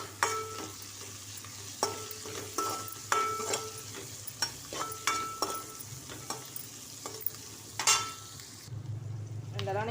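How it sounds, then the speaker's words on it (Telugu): Capsicum, curry leaves and cumin fry in a pan for egg fried rice. A close sizzle sits under a dozen or so rhythmic spatula scrapes and taps, ending in a brief low rumble. "అండ్ అలానే క్యాప్సికమ్, అండ్ అలానే కరివేపాకు, అలానే కొంచెం జీలకర్ర వేసి కొంచెం ఇవి అయితే బాగా ఫ్రై చేసుకోవాలి"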